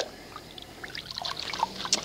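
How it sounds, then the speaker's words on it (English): Leftover car wash soap poured from a shot glass: a short, faint trickle and dribble of liquid with small drips, quiet and up close, no voices. "Let me get the remnants out of the shot glass here"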